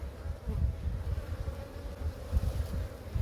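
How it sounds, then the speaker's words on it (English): Honey bees busy at a hive entrance during winter queen rearing, a low steady buzzing drone, fairly faint, with some wind noise and no talking. "These bees are working extremely well."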